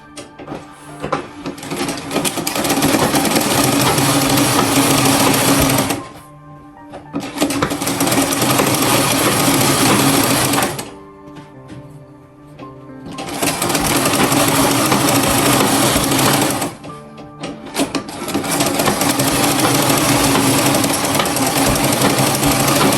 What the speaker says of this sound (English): I'm done sewing the first side.